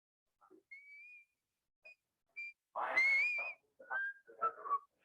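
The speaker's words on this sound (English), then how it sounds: "he just kept on whistling" Someone whistles a meandering tune on an answering machine recording in short, separate phrases, thin and slightly distant, with quiet gaps between the notes.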